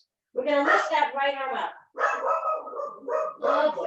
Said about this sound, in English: Please excuse my dog.